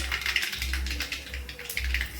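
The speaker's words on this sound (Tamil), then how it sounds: "கடுகு வெடிச்சிருச்சு" Mustard seeds popping and spluttering in hot oil while brinjal is tempered for a fry, a continuous crackle of quick sharp snaps over a low steady hum.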